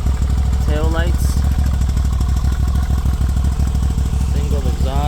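A 2023 Moto Guzzi V85TT shaft-driven motorcycle with a single exhaust idles steadily up close, a low, even engine thrum running throughout with a voice speaking over it.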